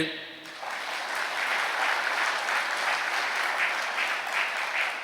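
A church congregation breaks into loud, sustained applause that swells quickly and holds steady, with a voice speaking at the start.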